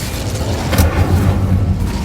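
An Incendio fire spell from the game Hogwarts Legacy erupts in a single loud, low whooshing blast with a sharp flare near the start, then rumbles on briefly.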